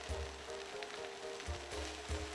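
Meat marinated in Nando's sauce sizzles loudly on a South African braai grill, a dense close crackle with a few soft low thumps underneath and no voices.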